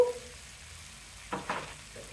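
Green chillies sizzling in a hot pan of tender pumpkin curry, a quiet steady frying hiss with a couple of louder stirring scrapes near the end.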